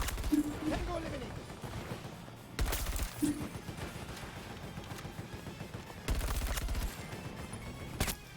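Gunfire in Battlefield 2042, a .44 Magnum among the weapons: several loud bursts of shots, each lasting about half a second, with continuous gameplay noise and a voice talking between them.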